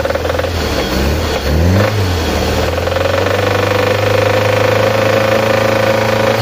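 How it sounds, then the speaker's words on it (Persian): A Peugeot 405 engine with a failed bearing runs steadily and loudly throughout, a constant mechanical drone with a brief revving swell near the start and no talking. "ماشین یاتاقان شده. گوش کن."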